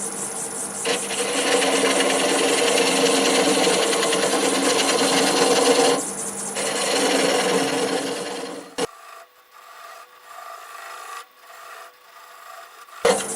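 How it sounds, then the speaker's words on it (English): A small detail spindle gouge cuts the nub of a live-edge wooden bowl spinning on a lathe, a loud continuous rasping whir that dips briefly, then stops abruptly into a quieter hum with faint scrapes. "I'm going to switch to my little detail spindle gouge to remove that nub."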